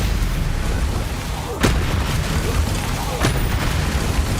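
Bombarda explosion spells from the video game Hogwarts Legacy, two sharp booms about a second and a half apart over a constant low rumble of battle noise.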